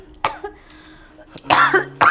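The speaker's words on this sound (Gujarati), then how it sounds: "બહુ ખાંસી છે" A person coughs in several harsh, separate bursts, close and loud, with one near the start and a heavier cluster toward the end, each followed by short quiet gaps.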